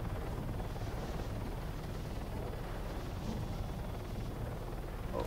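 A helicopter in the video game ARMA III drones steadily from inside the cabin, a dense continuous rotor and engine roar that stays even with no voices.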